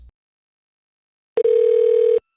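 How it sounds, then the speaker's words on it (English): Telephone dial tone during a call to a city commissioner's office: a short click, then a steady loud single-pitch tone held for just under a second before cutting off, with no talking. "hopefully everybody can hear this phone call"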